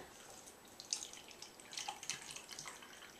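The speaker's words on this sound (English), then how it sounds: "So I'm going to add water," Water is poured into a lab beaker for a chemistry experiment. A quiet, brief trickle and a few light splashes come close by, with no talking.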